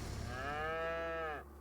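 A single cow in Farming Simulator gives a long, clear, tonal moo of about a second, close and even in loudness, then it stops sharply.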